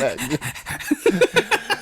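A person imitates rapid panting with the tongue out, a short run of quick, breathy, rhythmic huffs close to the mic that get sharper toward the end.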